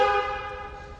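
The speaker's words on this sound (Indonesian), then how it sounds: "dan untuk bunyi klakson" Mercedes-Benz E 350 AMG EQ Boost (W213) horn, one short steady tonal blast sounding close and fairly loud, fading toward the end.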